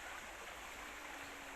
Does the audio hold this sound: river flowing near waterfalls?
yes